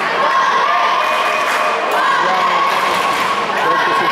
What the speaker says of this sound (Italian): Diciamo che è un bel tifo